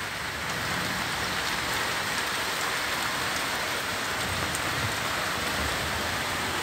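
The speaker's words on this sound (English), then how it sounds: "We need to go and check the colonies and see how they're weathering this rain" Steady, dense rain falls on beehives at a bee farm, a continuous hiss of drops striking surfaces with no voices, evenly loud throughout.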